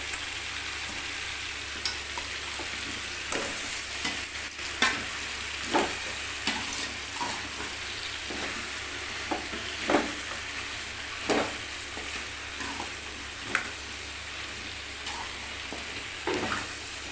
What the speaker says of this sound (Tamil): இப்போது லைட்டாக கொஞ்சம் வதங்கிடுச்சு